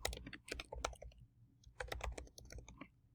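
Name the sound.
typing on a computer keyboard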